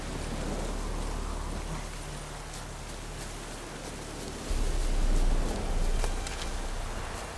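Steady rain patters down with a soft, constant hiss, a low rumble swelling briefly partway through.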